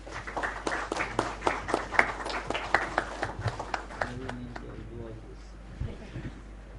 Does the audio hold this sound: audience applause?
yes